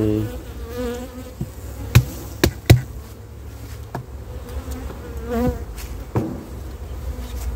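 Honeybees buzz around an opened production beehive with stores of honey and pollen, a steady close hum broken by several sharp knocks and taps of hive handling.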